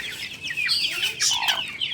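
Backyard hens and chicks cluck and cheep while feeding on kitchen scraps and plums, a busy, close chorus of short calls and high peeps with no talk.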